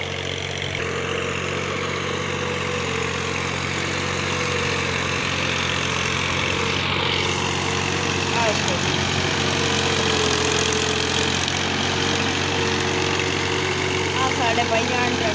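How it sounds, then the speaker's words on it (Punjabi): A tractor engine runs steadily while a field is prepared for paddy rice in a village, its low, even drone with a rough vibrating edge holding close and loud for the whole stretch. "ਸਾਡੇ ਬਾਈ ਜਾਣ ਟਰੈਕਟਰ ਵਾ ਰਹੇ ਹਨ"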